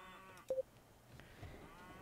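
Cows on a farm in The McDonald's Video Game give a faint, brief low moo against a quiet game background, with a few soft clicks around it.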